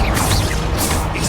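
A Confringo spell blast in the Hogwarts Legacy video game bursts as a loud, dense, close rush of noise that fills the whole moment without a break.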